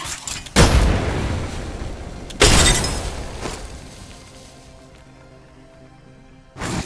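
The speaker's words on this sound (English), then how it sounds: "Frag out!" Frag grenade explosions in the Apex Legends video game, two loud broadband blasts about two seconds apart, each with a long decaying rumble. A third burst starts right at the end.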